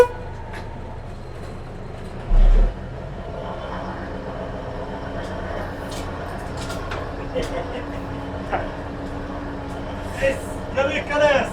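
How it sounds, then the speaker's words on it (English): A vintage diesel locomotive rumbles steadily, heard from inside the cab on an island heritage railway, with a continuous low engine drone, a brief loud blast early on and people talking over it. "So we'll jump up here on the diesel locomotive."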